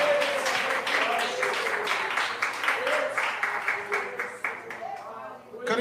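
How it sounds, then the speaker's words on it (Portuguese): A church congregation claps hands together in rhythmic, energetic applause, with a voice speaking over the clapping throughout. "Palmas bem alegres para o Rei da Glória, Jesus Cristo. Mais forte as palmas para Jesus"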